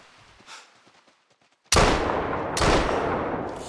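Two loud rifle shots in theHunter Call of the Wild, each a sharp close crack with a long booming tail rolling out across open hunting ground, separated by about a second after a quiet lead-in.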